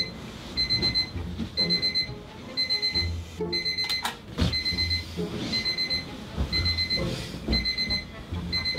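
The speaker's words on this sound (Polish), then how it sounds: "Co to jest za budzik?" An electronic alarm clock beeps at 3 a.m. in repeated bursts of rapid high tones, steady and insistent, with a brief break and some background movement.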